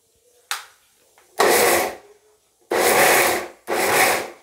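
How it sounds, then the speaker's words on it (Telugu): A mixer grinder pulses soaked dal into a thick vada batter, switched on and off in three loud, coarse whirring bursts with quiet gaps between them. "ఇప్పుడు మనం దీన్ని మిక్సీ కొట్టుకునేద్దాం"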